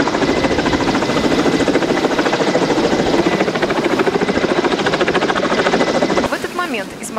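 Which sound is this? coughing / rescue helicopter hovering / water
rescue helicopter hovering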